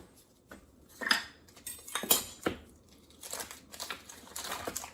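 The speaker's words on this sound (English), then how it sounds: "it takes a little bit of strength to cut into frozen butter" A knife works into a frozen block of organic butter, giving several scraping, crunching strokes in uneven bursts, close and fairly quiet.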